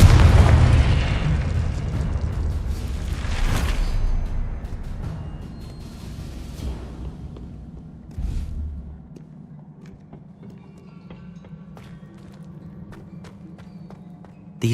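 Confringo explosion spell cast in the video game Hogwarts Legacy, giving deep booming blasts and bursts at the start that roll off into a lingering low rumble, with a smaller thud later.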